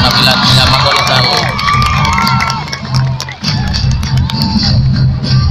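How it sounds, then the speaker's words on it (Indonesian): A large outdoor crowd at an Independence Day ceremony in a village claps and cheers loudly after a colossal drama performance about General Sudirman, with children shouting and whoops rising over steady, dense applause throughout. "Mohon tepuk tangan yang meriah kepada penampilan Nyaman Kolosal."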